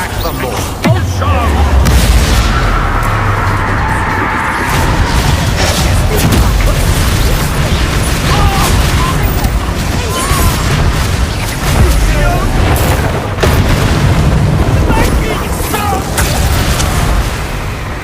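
Expulso blasting spells in the Hogwarts Legacy video game, a string of heavy booming explosions with rumbling low-end impacts, repeated over and over while a voice shouts through the chaotic fight.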